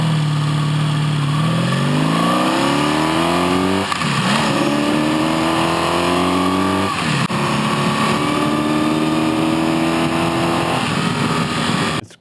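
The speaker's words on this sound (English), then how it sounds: "under hard throttle, she's breaking up again, just like she used to, but not quite as bad" A single-cylinder motorcycle engine with a carburetor problem revs loud and close under hard throttle, its pitch climbing in repeated pulls while the note stutters and breaks up, running continuously for about twelve seconds.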